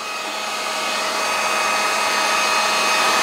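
A heat gun on a low setting warms dirt bike plastic to loosen sticker glue, giving a steady, close blowing whoosh that builds slightly louder throughout with no talk.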